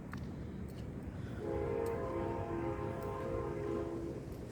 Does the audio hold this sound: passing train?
yes